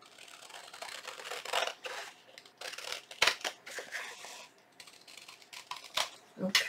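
Scissors snipping through fabric for a junk journal envelope, a few short crisp cuts spread out with quiet gaps between them, close and fairly soft, with some low talking at points.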